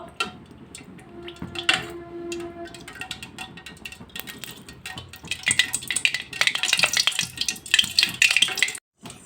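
Whole spices such as cinnamon, fennel, bay leaf, cloves and cardamom tempered in hot oil for a raw banana curry, crackling and sizzling loudly with stirring clatter that builds toward the end.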